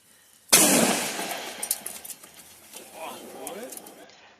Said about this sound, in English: because it makes a really loud bang, and tell them exactly where it is